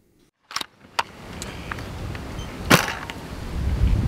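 A Kirin Type-A bolt-action Nerf sniper fitted with its weakest 1.6 spring, in a shell-ejecting setup, fires a single sharp pop after a couple of bolt clacks, close and clear over a steady background hum.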